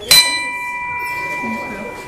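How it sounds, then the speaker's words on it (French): A clapper strikes a bell of the Douai belfry carillon once, giving a sharp metallic clang that settles into a clear ringing tone and lingers for about two seconds, close and alone. "on va faire bouger le bâton qui va venir frapper l'intérieur de la cloche"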